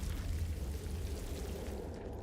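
A Confringo spell explosion in the Hogwarts Legacy video game, a dense rumbling boom that fills the short moment with sustained low roar and crackle.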